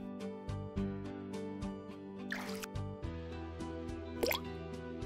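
A spoon is dropped into a container of water twice, each drop making a short plop and splash over soft background music. The two splashes are spaced about two seconds apart and sound close and fairly clear.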